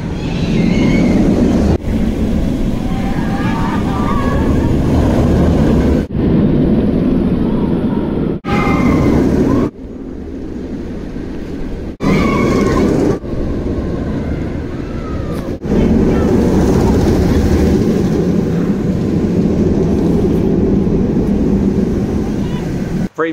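A ride on the Lech Coaster roller coaster at Legendia in Poland, a loud continuous roar of rushing wind and rumbling wheels with abrupt cuts between segments, recorded close on the train, with riders' voices mixed in.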